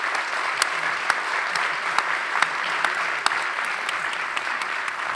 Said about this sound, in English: please give a big applause to our panelists